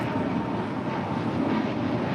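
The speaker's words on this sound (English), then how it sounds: "This is Spirit Airlines 888 departing to Columbus, Ohio on an A320neo" A Spirit Airlines Airbus A320neo departs LAX for Columbus, Ohio, giving a continuous, even jet engine roar with low rumble and no speech over it.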